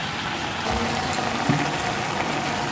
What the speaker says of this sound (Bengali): তখন আমি এতে জল ঢেলে দেবো